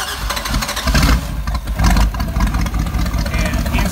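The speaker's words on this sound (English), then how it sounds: "right now we're going to turn on our ignition and we're going to start it" A rebuilt Mercruiser late-model marine engine cranks and starts, then runs with a loud, steady, close rumble that continues without a break.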